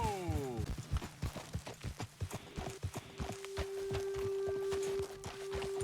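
Horse hooves clip-clopping steadily in Red Dead Redemption 2, close and rhythmic as horses walk, with a sustained tonal hum rising in the background partway through.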